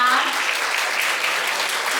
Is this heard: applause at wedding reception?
yes